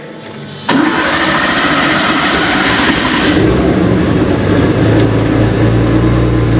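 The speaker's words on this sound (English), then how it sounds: "Now this engine is cold, runs straight away beautiful" After a brief quiet moment a cold classic car engine cranks and catches at once, then settles into a loud, steady idle that runs on evenly.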